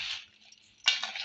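A large spoon stirs gunda (lasora) pickle in a pot, making two short metallic scraping bursts close by: one at the start and a stronger one near the end, with quiet between.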